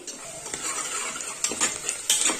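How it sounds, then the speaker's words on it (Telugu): Onions frying in a pan for mutton cashew curry, with quiet sizzling and repeated scraping stirs of a utensil against the pan, a few louder strokes near the end, close and with no talking. "ఆనియన్స్ వేగుతున్నాయి కదా"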